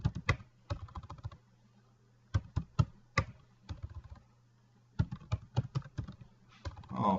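Someone types on a computer keyboard nearby in short irregular bursts of crisp key clicks, with pauses between runs and a faint low hum underneath.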